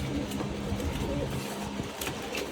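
Pet pigeons coo softly while pecking at almonds scattered for them, the low murmuring coos sitting under steady background noise with a few faint clicks and taps nearby.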